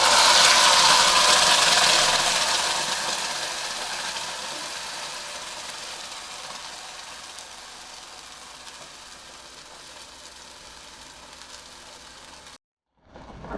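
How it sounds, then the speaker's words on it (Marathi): Ground masala hits hot oil with a loud, bright sizzle that gradually softens into a steady frying hiss over several seconds, with no voices. "हा जो आपला वाटलेला मसाला आहे तो सगळा आपण तेलात घालणार आहोत"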